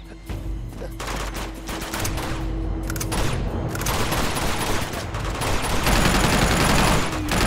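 Machine gun fire in an Uncharted video game, sustained bursts of rapid shots, loud and dense, building into heavier continuous firing toward the end.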